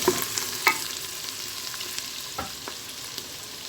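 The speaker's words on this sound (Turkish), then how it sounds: "Etlerim güzelce kavruldu." Meat and onions fry in a pan for kuru fasulye, with a steady soft sizzle and a few sharp utensil scrapes and clicks from stirring, close up, with no talking.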